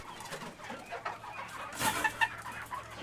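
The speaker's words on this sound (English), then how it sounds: "That's a silver Seabright rooster." A silver Sebright rooster clucks in short, close bursts indoors, with a few sharp calls standing out over a low background hum.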